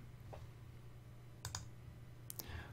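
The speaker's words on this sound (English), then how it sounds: "Now we'll finish our animation by clicking the record button." Mouse clicks on the record button in animation software, heard as two quick pairs of sharp close clicks over a steady low electrical hum in a quiet room.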